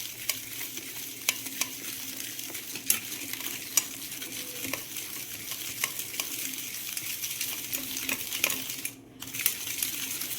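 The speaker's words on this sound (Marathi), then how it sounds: "याला फेस सुटलेला आहे असं दोन तीन मिनटे आपल्याला फेटून घ्यायचं आहे" Dalgona coffee whisked by hand until frothy, a soft continuous rapid scraping and ticking of the whisk against the bowl, close and steady with a brief pause near the end, no talking.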